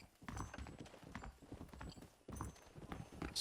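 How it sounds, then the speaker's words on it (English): Horse hooves in Red Dead Redemption clip-clop in an uneven rhythm, close and moderately loud, with a brief pause partway through before the steps resume. "Oh, they left a horse back here."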